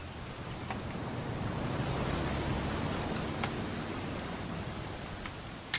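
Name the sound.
rain falling, from video game What Remains of Edith Finch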